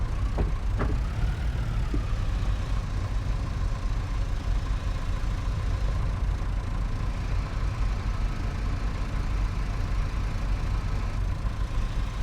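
Tractor engine in a farming video game runs at a steady idle throughout, a continuous loud drone with a faint tonal hum and a couple of brief clicks near the start.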